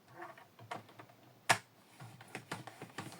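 Card paper creased into a fold for a pop-up cube card, giving a sharp crisp snap amid soft scattered rustles and taps of handling, close and fairly quiet.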